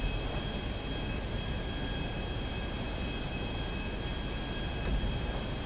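An airplane flying in GTA V, a steady, loud, continuous engine roar with a droning hum that holds evenly throughout, no talking.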